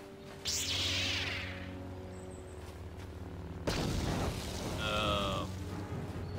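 A grenade explodes in the Star Wars KOTOR video game with a deep, booming blast partway through, followed by a rumbling tail and game sound effects, all under a steady background drone.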